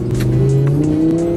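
An Audi R8 engine revs hard while driving, a loud, close rising tone that climbs in pitch over a second or so, heard from inside the car without speech.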